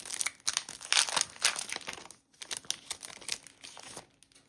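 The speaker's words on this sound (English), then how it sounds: "I found this little sticker sheet. I don't think it has like any words, but let's open it up." A small plastic-wrapped sticker sheet being opened, close crinkling and tearing of packaging in quick bursts with a short pause midway, no talk.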